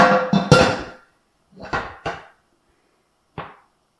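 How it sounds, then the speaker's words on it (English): A metal pressure canner lid being set in place, heard as a few sharp clanks and knocks, close and moderately loud, in short bursts separated by silence. "Now you're going to put your lid on"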